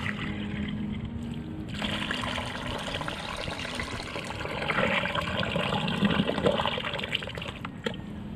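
Water pours and gurgles into an animal burrow in the ground, a continuous splashing, trickling flow that surges louder midway, with no talking over it.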